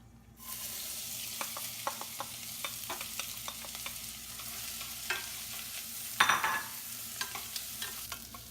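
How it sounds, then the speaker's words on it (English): Chopped shallots, garlic, carrots and celery sauté in olive oil in a saucepan. A steady sizzle runs under repeated scraping clicks of stirring, with one louder hissing burst partway through and no voices. "Add a tablespoon of olive oil, and then you're going to add your chopped shallots, garlic, carrots, and celery. You want to caramelize these."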